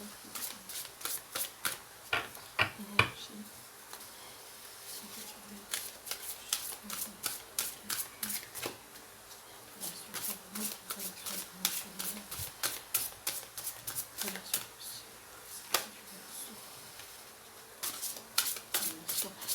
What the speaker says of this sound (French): je suis obligée de tirer l'autre carte